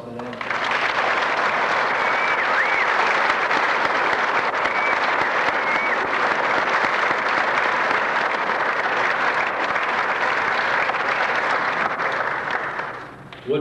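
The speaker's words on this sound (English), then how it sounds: "I think he deserves a round of applause for that." A large audience applauds loudly and steadily for over ten seconds after a baritone performance, a dense, continuous wash of clapping that fades out at the end.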